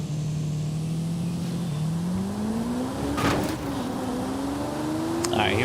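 A 1990s Lamborghini in Forza Horizon 5 revs steadily up through its range, loud and sustained, with a brief tire squeal and a sharp rise in engine pitch near the end.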